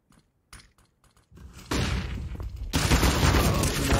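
Gunfire during a professional Counter-Strike match on Dust2, a few scattered early shots followed by dense, loud bursts of rapid fire that build into a continuous barrage.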